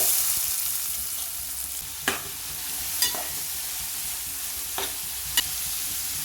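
Chopped onions and green chillies fry in hot oil in a pan, a constant close sizzle punctuated by four sharp spatula clicks against the pan, with no voices.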